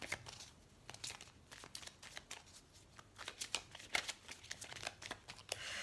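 Tarot cards are shuffled and drawn by hand in a quiet room, a steady run of soft, crisp riffling flicks and slides with brief pauses between bursts, close and fairly faint, with no voice over them.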